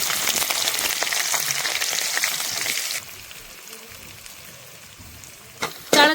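Garlic, onion and green chili with cumin frying in hot oil for a tadka, a dense steady sizzle for about three seconds that then drops to a quieter crackle, with a brief louder burst near the end.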